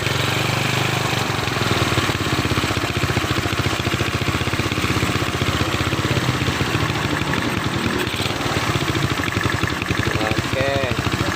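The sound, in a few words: Honda Beat motorcycle engine idling after carburetor conversion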